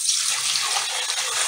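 Water pours steadily into a bucket, a bright, continuous splashing gush that holds a constant level throughout with no pauses or voices.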